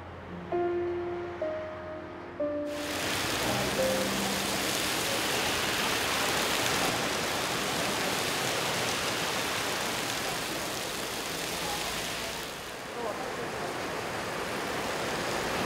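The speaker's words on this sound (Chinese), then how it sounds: "滂沱大雨中" Heavy pouring rain comes in suddenly after a few soft musical notes, then holds as a loud, dense, steady hiss that eases slightly near the end.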